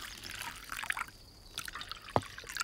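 Liquor poured into a glass during a drinking scene: short trickling splashes of liquid, faint and close, in brief bursts.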